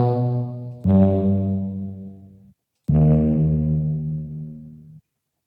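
Two long, low, droning trombone blasts, pitched down and slowed so they sound deep and heavy, separated by a short silence.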